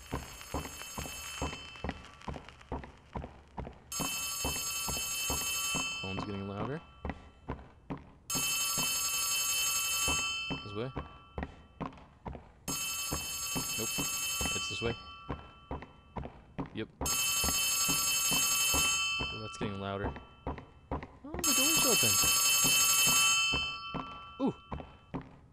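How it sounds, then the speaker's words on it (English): Old-style telephone bell ringing inside the horror game Poppy Playtime Chapter Three, five bursts of two to three seconds each repeating steadily with short gaps, over heavy footsteps and thuds and a voice talking. "I hear a phone, though."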